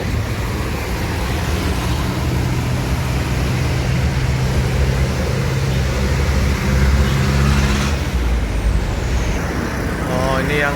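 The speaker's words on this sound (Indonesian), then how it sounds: "Lalu lintas terpantau ramai lancar." Busy road traffic streams past outside an ALS bus terminal, a dense, steady roar of cars, trucks and buses with engine rumble and a hiss of air brakes, continuous and fairly loud throughout.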